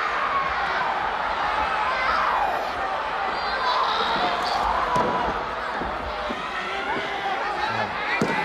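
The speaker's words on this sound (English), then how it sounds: "The crowd is begging her to come on." Wrestling crowd urging on a wrestler as she staggers up, a sustained roar of shouting and chanting voices filling the hall, loud and continuous with occasional sharper calls and thuds cutting through.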